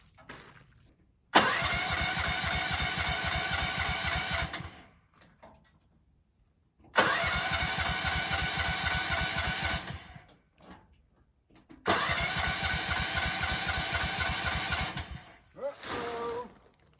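An engine left unused for about a month cranks in three long bursts of roughly three seconds each, with pauses between them, loud and close, then a short final burst.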